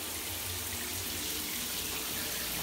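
A hotel shower at a Residence Inn in North Portland, Oregon runs at full flow close by, a dense, even hiss of falling water with no voices.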